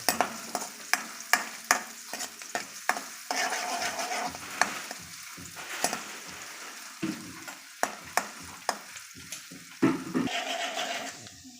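Noodle vegetables stir-fried in a pan, with repeated sharp clanks of the utensil against the pan over an intermittent sizzle, close and without talk.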